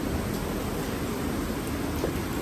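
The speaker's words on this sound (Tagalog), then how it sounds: "Naabutan na kami ng ulan" Rain falls in a rural province setting as a steady, dense hiss of drops that stays constant and fairly loud throughout, with no voices over it.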